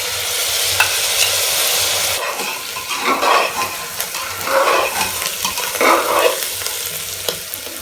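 Crushed garlic, green chili and cumin drop into hot oil for Sindhi-style rajma masala, giving a loud hissing sizzle followed by repeated stirring scrapes against the pan.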